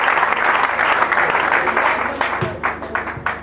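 A church congregation applauds loudly and steadily, a dense wash of many hands clapping that thins toward the end into a few separate claps.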